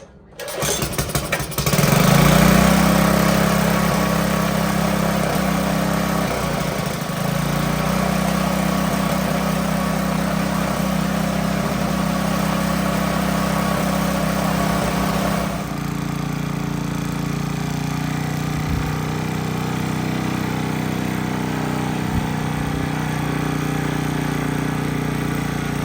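A barn-find Troy-Bilt Horse tiller engine, running with a little water in it, catches within a couple of seconds and settles into a loud, steady, throbbing idle that drops slightly in pitch partway through and runs on to the end.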